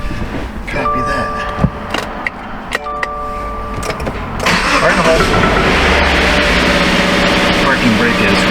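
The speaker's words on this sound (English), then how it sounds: "Start the engine and confirm operation electric parking brake." A 2018 Subaru Outback engine cranks and fires up in a garage or shop, settling into a steady, fairly loud idle after a few seconds of quieter clicks and beeps from the car.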